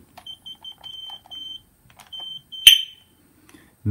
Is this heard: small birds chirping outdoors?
no